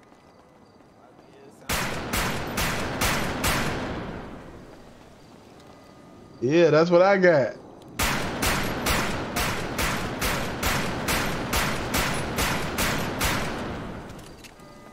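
Bursts of gunfire in a roleplay video game: a volley of about five sharp shots, a short pause with a voice, then a longer rapid string of about a dozen loud shots.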